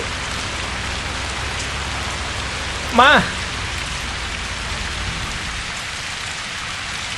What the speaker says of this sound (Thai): ฝนตกด้วย